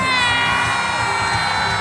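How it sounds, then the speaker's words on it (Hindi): A large crowd at an outdoor Christian prayer festival in Jharkhand shouts and cheers loudly and continuously, a dense roar of voices with whoops mixed in. "जोर से चिल्लाओ अगर खुश हो तो"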